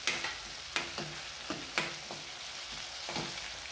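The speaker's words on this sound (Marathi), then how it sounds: "आता यामध्ये आपल्याला हे शेंगदाणे आपण भाजून घेतलेत, आता हे घालूया।" Roasted peanuts stirred into leftover chapati frying in a pan make a steady low sizzle, cut by sharp scraping clacks of a spoon against the pan at irregular intervals, close and moderately loud.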